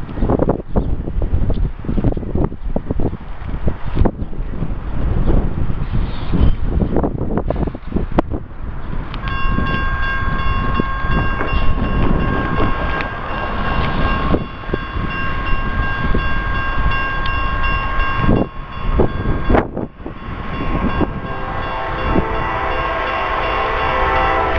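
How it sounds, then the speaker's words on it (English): A Norfolk Southern maintenance-of-way work train with heritage-unit locomotives and an SD60 passes close by, its engines rumbling and wheels clattering loudly, with a sustained multi-tone horn blast mid-passage and wind buffeting the microphone. "Oh dang, that's a work train."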